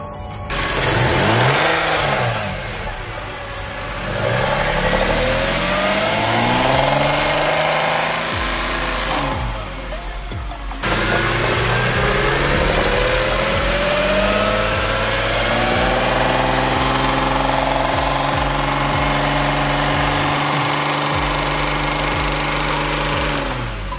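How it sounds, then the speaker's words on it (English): BMW S54 inline-six swapped into an E36, running around 2500 to 3000 RPM: loud, sustained engine drone with repeated rising and falling revs and a brief break near the middle, heard up close with no talking. "One of the reasons why I'm doing this is listen to the sound of the engine, and that's 2500 RPM to 3000 RPMs."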